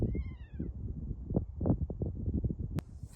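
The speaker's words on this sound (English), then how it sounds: "Sounds like a cat. It's these two birds." Two or three rising, cat-like mewing calls from birds at the start, then scattered rustling and soft clicks outdoors with light wind, in Arthur's Pass, New Zealand.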